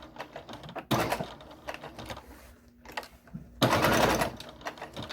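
A sewing machine stitches cotton reusable sponges, backstitching in two short, loud, close bursts. Quiet handling noises fill the gaps between them.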